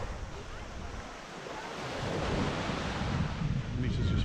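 Choppy sea waves breaking at a beach in Mallorca, a continuous rushing surf that swells louder toward the end, mixed with gusty wind buffeting the microphone.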